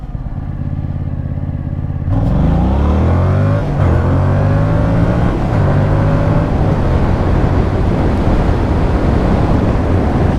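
A restricted 2021 Yamaha MT-07 motorcycle pulls away from the line, its engine idling before surging into loud, rising acceleration through several gear changes, close and dominant.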